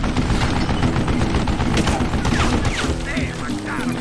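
Rapid gunfire from the Western shooter Call of Juarez Gunslinger, dense overlapping shots in a loud fusillade with crashing impacts, over a faint music bed and some voice.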